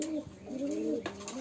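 High flyer pigeons from Khulna coo in a steady, rolling murmur close by, one bird's low throaty calls overlapping another's across the short stretch with no talking.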